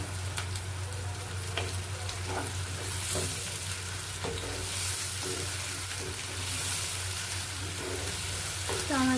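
Ground onion paste fries steadily in a pan for a Bihari-style chicken masala, a continuous close sizzle broken by repeated scraping stirs of a spoon against the metal.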